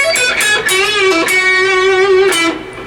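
An electric guitar plays a short lead lick: picked notes, a string bend and release, a pull-off, then a held note with vibrato, close and clear with no voices.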